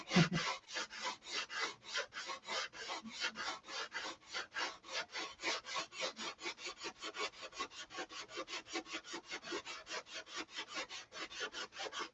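Rhythmic rasping strokes of sandpaper by hand, shaping the wooden turtle deck of a Sig Magnum model plane, rapid and regular, close up with no voices.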